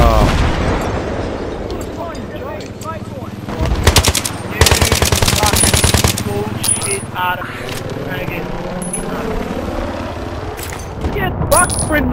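Battlefield 3 gunfire rattles loud and close, with long bursts of rapid machine-gun fire among scattered shots and booms, and a voice talks over part of it.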